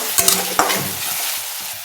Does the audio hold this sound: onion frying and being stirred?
yes